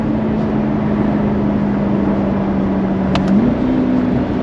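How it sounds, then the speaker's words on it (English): 2022 Corvette 3LT engine heard from inside the car in manual mode, a steady close drone that steps up in pitch once near the end, like a downshift, with a couple of faint clicks. "listen to those downshifts"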